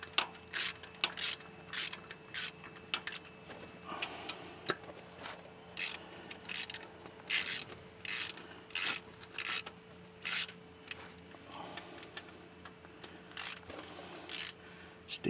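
A ratchet clicks in quick repeated bursts while bolts are run down on the transmission cover of a Branson 3520R tractor, each burst separated by short pauses in a quiet workshop.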